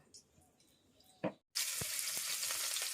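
Garlic and chili hit hot oil for a bitter gourd fry, bursting into a loud, steady sizzle after a short quiet pause and a brief clatter. The hissing continues unbroken to the end.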